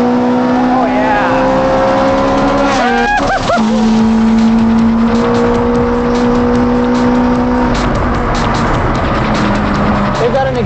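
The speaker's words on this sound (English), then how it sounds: "since this car has nearly a straight pipe exhaust, it's very, very loud." A loud race car with a near straight-pipe exhaust roars and revs close up, its harsh, raspy exhaust note rising and falling as the car accelerates hard.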